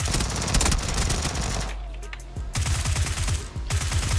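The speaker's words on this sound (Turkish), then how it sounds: "Bir de UMP ile artık sıkalım" A UMP submachine gun fires rapid bursts in the PUBG video game, loud close automatic fire with a short pause mid-clip before another burst of shots.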